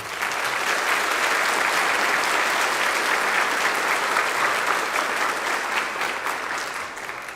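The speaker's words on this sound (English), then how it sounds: "Give them another round of applause." An audience at a school spring band concert applauds, loud sustained clapping that fills the room for several seconds before slowly tapering.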